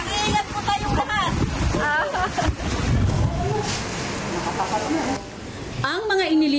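Strong typhoon wind roars and buffets the microphone in rain-lashed Cagayan, a continuous heavy rush under a reporter's voice and other speech.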